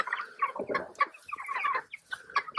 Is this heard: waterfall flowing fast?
no